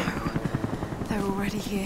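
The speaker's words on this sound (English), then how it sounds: "That's the helicopter again." A helicopter in the video game Rise of the Tomb Raider gives a rhythmic rotor chop thudding steadily under game sounds, while a voice speaks over it.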